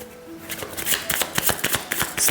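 Tarot cards shuffled and handled to pick a card during a love reading, a dense run of crisp riffling slaps and flicks close up, with faint speech-like murmur beneath.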